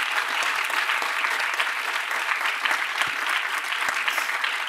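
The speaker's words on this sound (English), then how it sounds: "Let's give a big round of applause to Chico for joining us tonight." Lecture audience gives a big round of applause to a guest speaker, a loud, continuous, dense crowd clapping that holds evenly throughout with a few sharper individual claps standing out.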